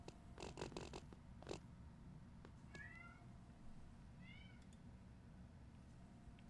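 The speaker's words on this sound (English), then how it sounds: "My co-caster is my cat, currently screaming in the other room." A cat meows a few times at a distance, muffled and faint against a steady low background hum.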